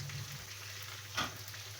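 Chicken in chilli sambal frying in oil in a pan, a steady close sizzle with a brief louder spatter or stir partway through.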